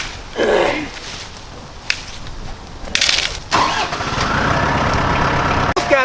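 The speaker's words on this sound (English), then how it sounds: "We'll fire the tractor up, we'll drive some posts." A tractor engine cranks and catches close by, then settles into a steady, loud rumbling idle, with a few clanks at the start.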